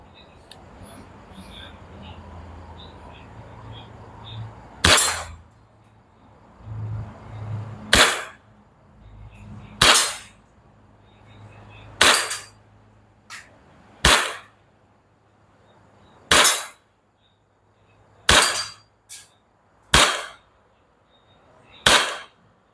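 WA M1911A1 gas airsoft BB pistol fired as single sharp shots, about nine cracks spaced a second or two apart, loud and close, with faint handling noise and a low background hum between shots.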